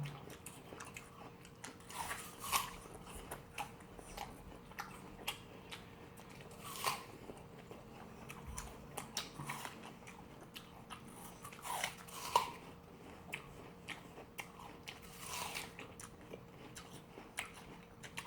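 Someone bites into and chews a whole dessert apple, with sharp crunchy bites recurring every few seconds and moist chewing in between, close and fairly quiet.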